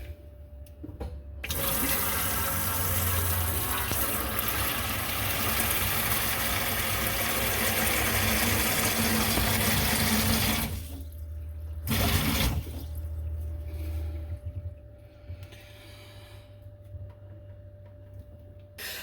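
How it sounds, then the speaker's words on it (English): A Kohler faucet gushes water into a sink for about ten seconds, loud and steady, then shuts off, leaving faint ticking and a brief splash. "Now I'll turn on the faucet and do this again."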